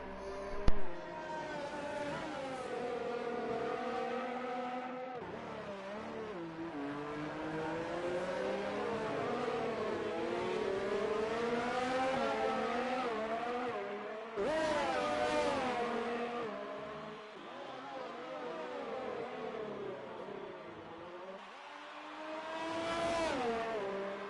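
A Haas Formula 1 car's engine screams through a video game race at the Bahrain Grand Prix, rising and falling in pitch through repeated upshifts and downshifts, loud and continuous for the whole stretch.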